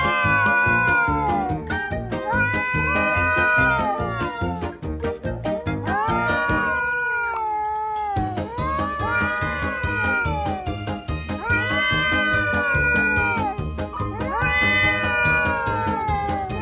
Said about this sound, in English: Who do you think will win the meow fight?